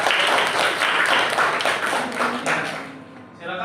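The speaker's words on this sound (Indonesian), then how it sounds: "tepuk tangan buat kelompok 1" Classroom audience clapping for a presentation group, a fairly loud burst that thins out toward the end, with a voice briefly audible as it fades.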